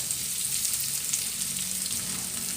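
Crispy pork stir-fries with chilli and garlic in a pan for a mixed-vegetable dish, making a quiet, even frying hiss that holds steady throughout with no voices.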